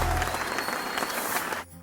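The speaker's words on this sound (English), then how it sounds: "As Tang Sanzang departs, the crowd cheers" A crowd breaks into a burst of clapping and cheering that stays dense and loud, then cuts off abruptly just before the end.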